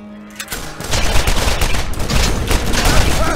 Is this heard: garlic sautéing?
no